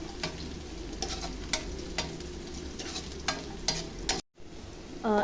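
Garlic frying in a pan for a chicken dish, with a steady close sizzle and repeated scraping stir strokes; a brief silent gap near the end before the sizzle resumes.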